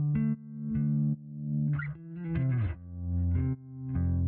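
Distorted bass guitar notes, sidechained with an LFO tool, swelling and ducking in a steady pumping rhythm, each note fading up then cutting back, repeating about every second.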